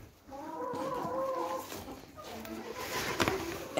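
Hens cluck in a small poultry shed where eggs are collected. A run of close, repeated clucks comes first, followed by quieter scattered calls and rustling.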